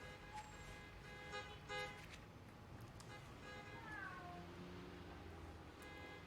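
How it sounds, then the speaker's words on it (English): Spider-Cat, a cat in Marvel's Spider-Man: Miles Morales game, meows softly a few times over a steady wash of city traffic and background ambience, faint and fairly distant. "Let's pet the cat and start the mission."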